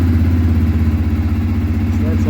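A 2022 CFMoto 600 touring ATV engine idles steadily, a loud, close, low rumbling throb that runs throughout with a slight pulse.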